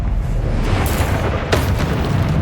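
A Confringo spell blast in the Hogwarts Legacy video game goes off as a dense, loud rumbling boom, with two sharper cracks punching through the sustained roar.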